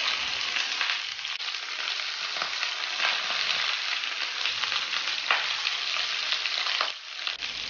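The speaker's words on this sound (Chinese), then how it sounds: "锅烧干后放入油，然后把鱼放进去煎，" Golden pompano pan-frying in oil, a close, continuous sizzle and spatter with small crackling bursts and slight swells, heard alone with no talking.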